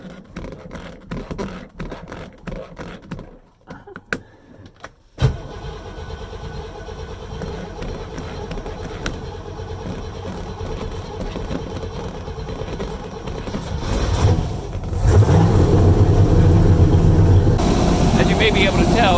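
Small gasoline engine with fuel pump and carburetor being started: handling noises and a few sharp clicks, then the engine catches and runs with a steady drone that grows louder near the end.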